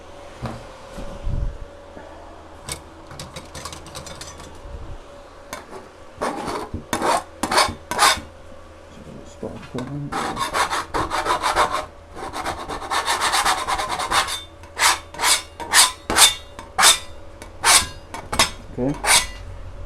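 A small scraper rasps repeatedly across a 3D printer build plate to clear grease and stuck bits, in bursts of close scratching strokes that grow faster and sharper toward the end, with a voice briefly audible early on.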